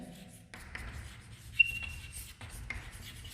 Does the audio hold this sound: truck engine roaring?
no